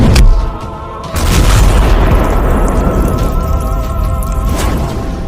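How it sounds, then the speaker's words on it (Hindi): A car set ablaze and blowing up in a video game: a loud booming blast followed by a long roaring, crackling rumble of fire and debris, with no talking. "जिसके कारण कार में आग लग जाती है।"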